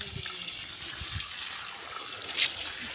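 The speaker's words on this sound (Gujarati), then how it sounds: "સરસ સારા પ્રેશરથી પાણી આવે છે" Well water pumped under pressure pours steadily into a tank, a continuous close hiss and rush of flowing water with no talking.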